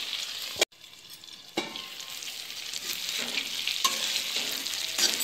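Stuffed brinjals cook in a pan, hissing and sizzling steadily. An abrupt clunk near the start, like a lid or a turn, is followed by a continuous sizzle that slowly swells. No one talks.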